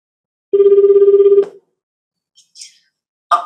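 Telephone ringback tone heard while a call is placed, a single steady electronic tone lasting about a second, clear and alone, followed by faint small noises.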